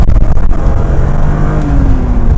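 A BMW E36 M3 engine revs up hard under acceleration, a loud continuous roar whose pitch climbs steadily, heard close from inside the car with no one talking.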